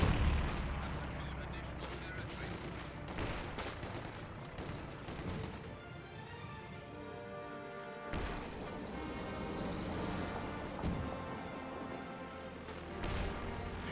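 Strafing run gunfire in Company of Heroes 2, a dense, continuous barrage of rapid shots and booms layered over a busy battle soundscape, loud and sustained throughout.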